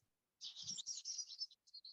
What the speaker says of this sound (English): The birds are still singing and the rain has stayed off.